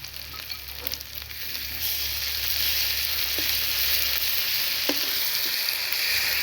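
Ginger, garlic and green chili paste frying in a pan, a steady broadband sizzle that builds after a couple of seconds, with a few faint scrapes of stirring, close and alone.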